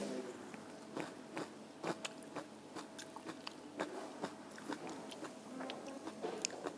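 Close, quiet chewing of a whole mouthful of sushi, with soft wet bites and crunchy mouth sounds repeating in an uneven rhythm.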